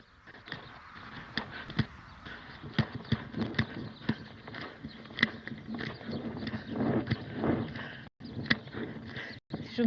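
A horse walking in a riding arena during schooling work, its hooves clip-clopping in a steady four-beat rhythm at moderate distance, with faint background noise and no clear talk.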